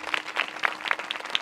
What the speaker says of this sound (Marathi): एकदा ह्या वारकऱ्यासाठी टाळ्या वाजवा